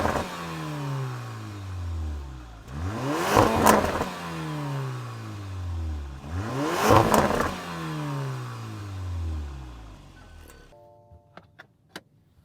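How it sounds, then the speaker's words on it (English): A 2022 Porsche Macan's exhaust revs twice, each blip rising and then falling away, close and fairly loud, followed by quiet idle and a few clicks. "now let's listen to this exhaust"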